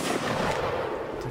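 Musket and rifle fire during a multiplayer siege battle in Mount & Blade Napoleonic Wars, a dense, rumbling barrage of overlapping shots and booms at mid distance, continuous with no clear gaps.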